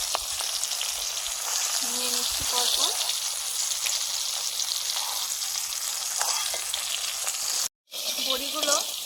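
Masoor dal bori (sun-dried red lentil dumplings) being stirred and toasted in a dry wok, giving a steady close hiss of sizzling and scraping that runs under a woman's speech.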